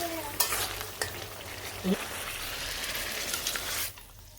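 A ground paste is stirred into shukto, a Bengali vegetable curry with fish head, in a hot pan, giving a steady close sizzle with scraping stir strokes and a few spoon knocks before it fades at the end.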